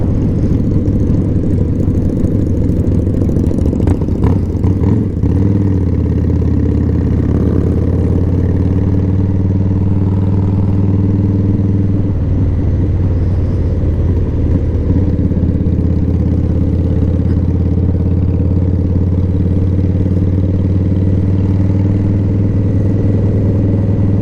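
Harley-Davidson Fat Boy motorcycle lapping Barber Motorsports Park, a steady loud low engine rumble held close throughout, with slight changes in throttle and no talk.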